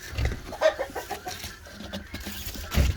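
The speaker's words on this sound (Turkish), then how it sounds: "burada bolca horoz var." Chickens cluck and murmur in a busy coop, with roosters among them. Low farmyard bustle carries on throughout, moderately close.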